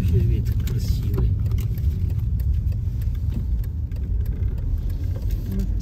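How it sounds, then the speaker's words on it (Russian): A car moves along a street in a new-build district of Shapagat, Shymkent, giving a steady low engine and road rumble that stays fairly loud throughout. "одна машина подошла"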